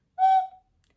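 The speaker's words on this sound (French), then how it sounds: "ce sont des petits oiseaux en céramique avec un trou ici et un trou là pour" A small ceramic bird-shaped Péckvillchen whistle gives one short, clear, bright whistle lasting about half a second, loud and close, then silence.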